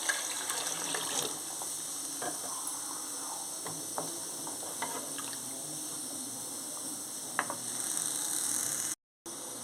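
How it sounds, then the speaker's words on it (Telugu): Water poured from a glass into a cooking pot, six glassfuls in all while preparing jowar rava upma, giving a steady, soft splashing gush with scattered clinks of the glass against the pot, close by. "ఇప్పుడు నేను అలాగా 6 గ్లాసులు వాటర్ వేసుకుంటున్నాను."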